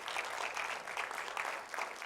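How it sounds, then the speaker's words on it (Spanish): Church congregation applauding, a fairly quiet, even patter of many hands clapping with slight pulses in intensity, heard from some distance and with no speech over it. "Den un fuerte aplauso al Rey de Reyes."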